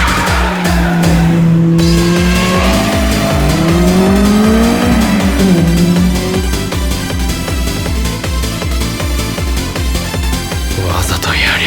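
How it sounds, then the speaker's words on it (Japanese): A race car engine screams loudly, revving high to the redline with a rapid pulsing drone, its pitch climbing and falling, with tire squeal and voices mixed in, from the anime Initial D. "レッドゾーンまで一気に吹けるこの音"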